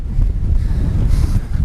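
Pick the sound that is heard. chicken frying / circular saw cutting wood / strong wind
strong wind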